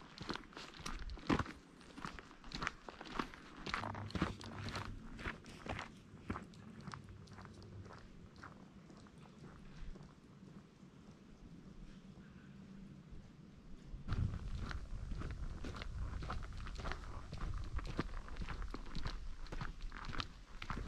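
Footsteps crunching through the Australian bush, with irregular steps on dry ground and brush. The steps are quiet and close in the first part, then grow louder and denser near the end.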